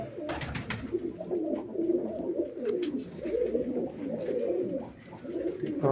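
A loft of pigeons coos continuously while being fed a grain mix of linseed and millet, the low burbling calls layered and close, with scattered sharp taps and pecks near the start.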